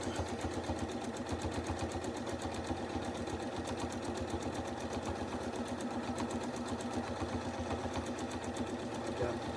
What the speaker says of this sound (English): Quilting design, freehand filler pattern.